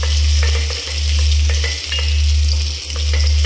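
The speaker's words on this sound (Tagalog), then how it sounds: "So, imikos-mikos muna natin siya hanggang mag-brown." Ginger sautéing in a pan with onion and tomato, a steady loud sizzle under a low, pulsing hum, with occasional soft scrapes as the pieces are stirred around.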